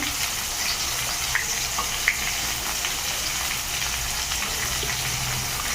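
Chopped onions fry in hot oil as the base for a Bengali chicken curry, with a steady, even sizzle close by and an occasional faint tap of the spatula. No voices are heard.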